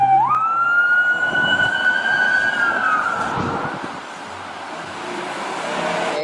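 A siren winds up and holds a loud, steady wail for a few seconds before fading out, over a low rumble of passing traffic.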